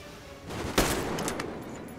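A single muffled gunshot in Metro Exodus, with a short burst of quieter follow-up crackles, fairly faint against the game's background ambience.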